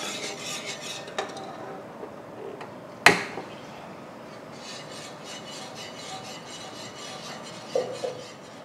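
Quiet scraping and light clinks of a spoon stirring pudding with palm sugar syrup in a pot, with one sharp metallic knock partway through and a couple of soft taps near the end.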